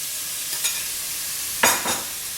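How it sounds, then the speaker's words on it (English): Grated carrots going into ghee left from frying cashews, a soft continuous sizzle with a couple of brief scraping stirs, the second one louder, close by and without any voice. "In the same ghee, I'm going to add the grated carrots"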